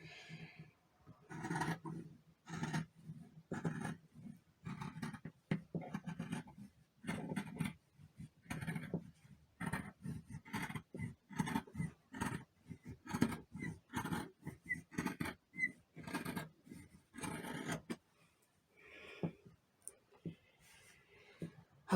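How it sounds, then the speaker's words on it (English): Scissors cut a head hole through tablecloth fabric in a long run of rhythmic snips and crunches, close and clear, with short pauses between bursts and no talking. "it is now time for the very nerve-wracking part of cutting the hole for my head"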